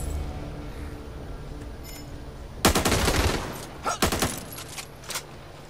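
Gunfire in the co-op zombie shooter Back 4 Blood, a sudden loud burst of rapid shots followed by a few shorter volleys, over a quiet game background.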